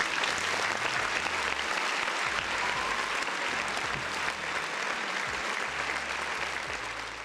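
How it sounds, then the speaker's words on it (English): A crowd claps steadily for several seconds, dense even applause at moderate volume that tapers slightly toward the end, with no voices over it. "Another round of applause for the folks in the chat."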